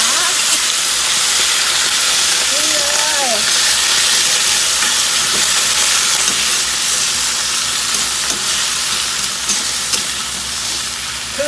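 Mustard greens and morning glory are stir-fried in hot oil in a wok, a loud, continuous close-up sizzle and hiss with occasional scraping stirs and a faint extractor-fan hum, with no talk.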